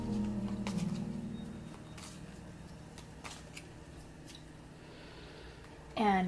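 A deck of tarot cards is shuffled by hand in soft, papery riffles and slides, quiet and close, with a few brief rustles and a sharper flutter at the end.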